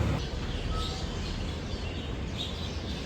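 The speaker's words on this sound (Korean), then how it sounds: "새 소리가 너무 좋아요. 새가 아니라 뭔가 병아리가 삐약삐약거리는 소리?" High, thin chirping from small birds, compared to baby chicks peeping, sits faintly over steady street noise on a walk in Kaohsiung, Taiwan.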